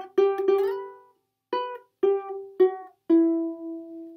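A ukulele plucks a riff in separate ringing phrases, each opening with a sharp attack and decaying, with short silent gaps between them and no voice over it.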